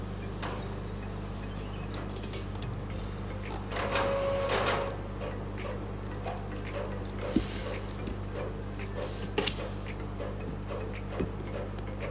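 A printer runs in a quiet office while printing an airline ticket, giving a soft mechanical whir with a few faint clicks and knocks over a low steady background hum.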